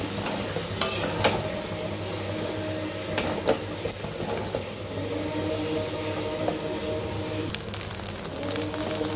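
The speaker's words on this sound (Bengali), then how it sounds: "ধনে পাতাটা দেওয়ার পর আর একটু মিক্স করে নেব" Chirer pulao, flattened rice with coriander leaves, being stirred in a pan, giving steady scraping and clinking of a spoon against metal over a soft background sizzle, continuous and close.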